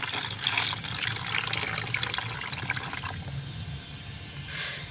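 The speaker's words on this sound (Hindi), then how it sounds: "सस्सी यहाँ पर पानी भर रही होती है टब में" Water pours into a small tub during a doll bath-time play scene, a steady splashing hiss that stops about two-thirds of the way through, with no talking.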